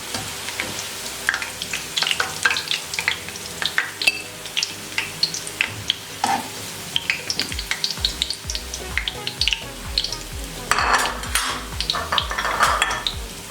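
Onions frying and being stirred for chicken biryani, a steady sizzle with scraping and clinking of a utensil against the pan, close and continuous without talk.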